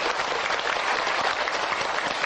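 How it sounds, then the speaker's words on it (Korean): An audience at a Buddhist temple anniversary ceremony in Korea claps in a brief, dense burst of steady applause, loud and continuous throughout. "여러분 큰 박수로 축하해 주시면 고맙습니다"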